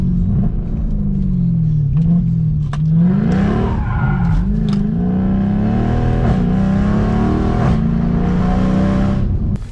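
Car drifting into a spin, its engine revving loudly and unevenly as the throttle is worked, with rumbling tone rising and falling and tire squeal threaded through, close and continuous.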